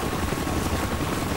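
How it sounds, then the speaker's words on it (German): Helicopter in the video game Call of Duty: Black Ops, a loud continuous rotor and engine roar filling a brief moment with no pauses. "Hubschrauber."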